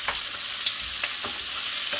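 Chicken, onions and peppers frying in oil over the heat, a constant close sizzling hiss with a few light stirring scrapes and pops over two seconds, no voices.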